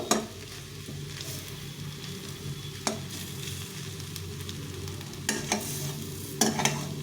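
Bete shak leafy greens fry in a pan with a continuous sizzle, while a spatula stirs and knocks against the metal in occasional sharp clicks, close up with no voices.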